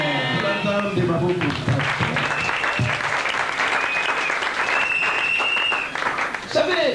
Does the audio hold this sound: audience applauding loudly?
yes